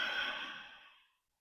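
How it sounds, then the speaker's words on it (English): A single long, breathy exhale pushed through a constricted throat in Ujjayi pranayama during a hatha yoga class, a soft hissing rush that fades out over about a second, then silence. "Use Ujjayi Pranayama, that slight constriction over the vocal cords as you breathe out."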